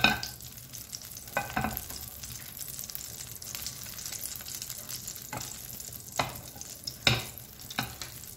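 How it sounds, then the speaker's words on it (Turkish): A piece of butter melts into hot oil in a pan while making kuymak, giving a close, continuous sizzle broken by several louder bursts and scraping stirs, with no talk. "Şimdi bir parça tereyağımızı üzerine ekliyorum."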